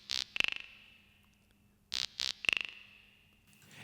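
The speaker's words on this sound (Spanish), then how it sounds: "Esta caja en particular tenía dos sonidos característicos, la quijada y el güiro" Emulated drum machine voices of quijada and güiro: short bright rattling bursts followed by a ringing decaying rattle, played twice in a sparse pattern, clean and isolated.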